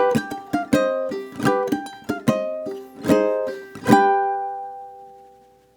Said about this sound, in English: So let me play this ending going into the next couple measures.